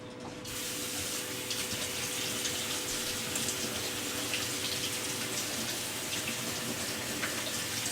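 Cold tap water runs steadily over two cans of canned chickpeas in a strainer, a loud, continuous hiss and splash that starts abruptly and holds at an even level throughout, with no talking.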